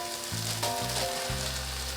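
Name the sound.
ground beef and lamb sizzling as added to sauteed vegetables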